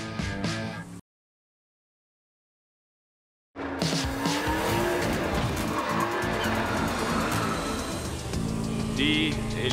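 Animated cartoon cars race with loud, continuous engine roar and repeated tire squeals and skids, after a brief silent gap; faint talk may sit underneath.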